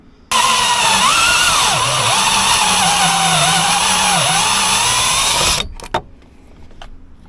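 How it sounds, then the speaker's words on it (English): A high-pitched power drill whines steadily for about five seconds while drilling a 3/4 inch hole in metal on a service truck, its pitch dipping slightly under load, then cuts off abruptly, leaving a few faint clicks. "I'm going to drill a 3/4 inch hole right on this side."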